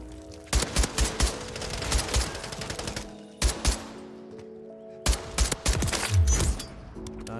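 EBR-14 rifle shots in a first-person shooter game, several sharp loud bursts separated by gaps and quieter stretches, slow paced rather than rapid fire.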